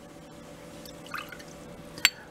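A tablespoon of baking soda solution goes into a small glass in a quiet room, heard as a few faint liquid drips and splashes with a sharp clink of glass near the end.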